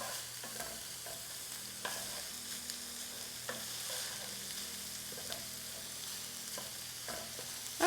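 Onions sautéing in a pan for a keto chili pot pie, a soft steady sizzle with periodic scrapes and stirs of a utensil, close-up and fairly quiet, with a low hum underneath and no talking.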